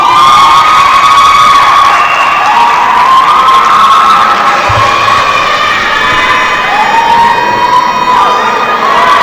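A crowd at a presidential debate cheers and shouts loudly and continuously for an incoming candidate, with shrill sustained whistling or ululating tones riding over the roar throughout.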